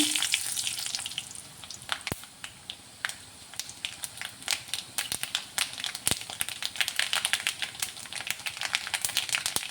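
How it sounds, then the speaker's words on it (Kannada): Garlic and mustard seeds sizzle in hot tempering oil for a tomato and potato curry, a close crackling hiss dotted with sharp pops and spatters that grow busier toward the end. "ಬೆಳ್ಳುಳ್ಳಿ ಸ್ವಲ್ಪ ಬ್ರೌನ್ ಕಲರ್ ಬಂತಲ್ಲ ಈಗ ಸಾಸಿವೆ"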